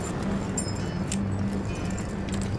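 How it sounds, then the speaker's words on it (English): Keys jangle steadily and close up, a continuous bright metallic rattle lasting several seconds over a low background rumble. "keys."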